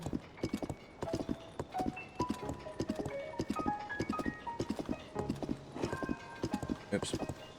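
Epona, a horse in the video game Zelda: Tears of the Kingdom, trots along a road with steady, close clip-clop hoofbeats, layered over game music and a person talking.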